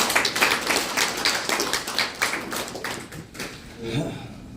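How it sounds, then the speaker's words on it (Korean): Scattered clapping from an audience at a campaign office opening event, individual claps distinct and fairly close, thinning and fading toward the end as a voice briefly surfaces. "큰 박수 한번 부탁드립니다"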